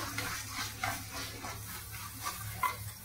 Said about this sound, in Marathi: आपण आता याच्यात चवीपुरतं मीठ घालणार आहे, ते चांगलं व्यवस्थित परतून घेणार आहे